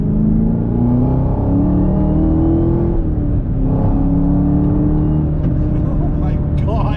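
A 2021 Chevrolet Camaro ZL1 1LE accelerating hard in second gear, loud rising engine roar with a pronounced supercharger whine climbing in pitch, heard from inside the car.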